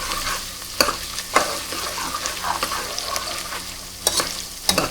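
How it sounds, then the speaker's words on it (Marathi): Crushed garlic and ginger fry in a pan for chicken liver masala as a spoon stirs and scrapes in irregular strokes over a soft, steady sizzle, with no talking. "आता थोडंसं 1-2 मिनिटं त्याला हलवून घेऊया."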